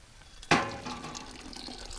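Maple sap dripping after tapping, a single sharp wet drop striking near the start followed by soft, continuous trickling liquid at close range.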